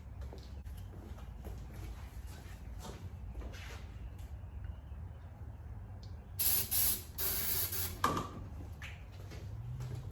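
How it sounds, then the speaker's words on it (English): Aerosol starting fluid hisses in bursts as it is sprayed into an engine that is being tried. The sprays sit over a steady rumbling background, with clunks and rattles around them. "I am going to give it a shot of starting fluid"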